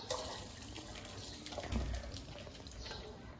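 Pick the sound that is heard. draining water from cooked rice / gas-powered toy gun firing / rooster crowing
draining water from cooked rice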